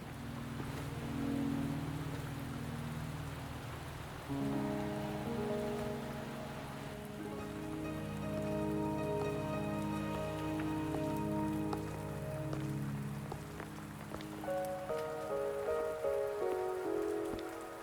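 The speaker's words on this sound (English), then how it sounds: "Are you trapped here by the rain?" Steady rain patters over a surface in the fantasy video game Wuthering Waves, a constant hiss under layered game music that shifts and swells across the scene, with no voices.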